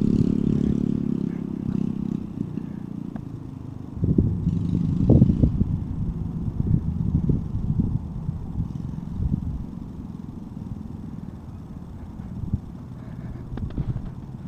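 A Baja Warrior 196 mini bike engine running as it is ridden, a rough, clattering small-engine drone that swells and rises with revving, fairly close and steady throughout.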